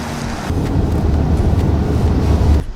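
Boat engines run steadily at close range, a dense low rumble that holds constant through the clip with wind buffeting mixed in, then cuts off abruptly at the end.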